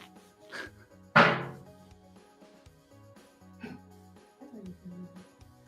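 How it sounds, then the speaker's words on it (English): A metal gas can in a garage corner gives a single sharp bang from a sudden temperature change, loud and abrupt, with people talking before and after it. "Occasionally, when there's a large abrupt temperature change, the metal gas can in the corner of my garage will make a"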